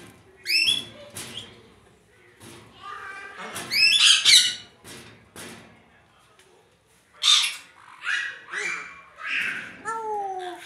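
A pet grey parrot mimics dog barks and other animal calls in bursts of squawks, whistles and chirps, loud and close, with quieter gaps between calls.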